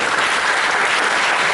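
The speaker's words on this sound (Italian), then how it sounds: "io gli farei un applauso" An audience at a regional council candidates' debate bursts into steady, dense applause, a continuous wash of clapping from many hands with no speech over it.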